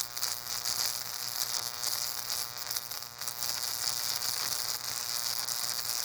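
A high-voltage 15,000-volt DC plasma arc burning into wet mud sand from a yard, giving a steady loud electrical buzz and hum with a harsh crackling hiss that holds without a break.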